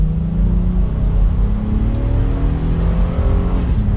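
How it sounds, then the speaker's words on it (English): A 2022 Honda Passport Trailsport with a V6 accelerates under light throttle in normal drive mode, its engine note rising steadily over a continuous road and engine drone, with no talking. "We'll give it a little bit of gas in the normal setting."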